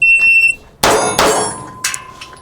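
An electronic shot-timer beep sounds briefly at the start of a handgun target-transition drill, followed by three loud, sharp gunshots in quick succession, with no one talking.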